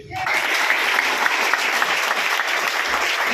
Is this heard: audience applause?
yes